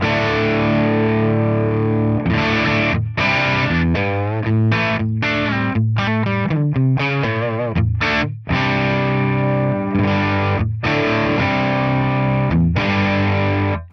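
Distorted electric guitar played through a Helix Soldano SLO 100 amp model with parametric EQ, a dense chugging riff of sustained chords and choppy rhythmic stabs, loud and up close with no talking.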